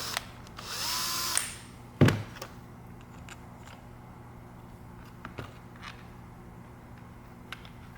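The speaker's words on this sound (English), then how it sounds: "I'll drill that out." A power drill bores out a 3D printed revolver part in one short, high whirring burst, followed by a sharp clunk and quiet handling noises nearby.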